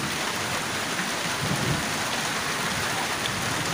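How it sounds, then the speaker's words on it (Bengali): Heavy rain pours steadily during a cyclone storm with hail, a dense, unbroken hiss of drops on surfaces close by, and a faint low rumble beneath it. "অনেক দিন পর বৃষ্টি হলো"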